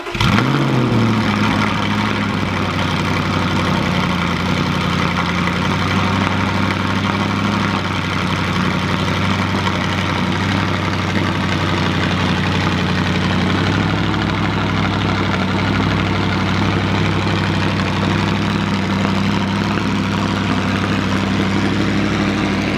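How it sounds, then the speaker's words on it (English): A 2008 gated Audi R8 with straight-pipe exhaust fires up cold, giving a sharp burst at startup and then settling into a loud, steady, rumbling high idle that runs unbroken and with no voices. "Cold start 2008 gated R8 straight pipe."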